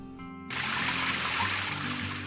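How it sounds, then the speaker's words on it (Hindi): A babbling river in a mountain village setting: a steady rush of flowing water starts abruptly after a brief quiet moment and continues evenly, with a soft sustained musical tone underneath. "कलकल करती हुई नदी"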